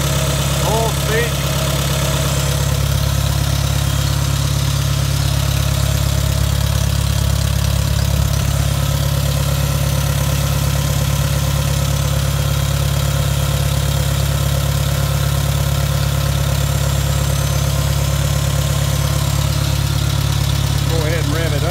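A cold car engine idles steadily throughout, a low, even rumble with a constant hum and no revving.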